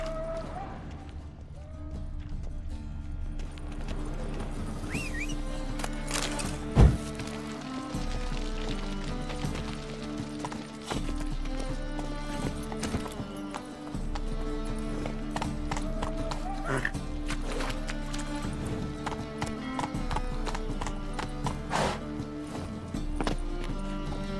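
In The Witcher 3 video game, the horse Roach gallops with steady rhythmic hoofbeats under game music and a whinny, while characters talk throughout.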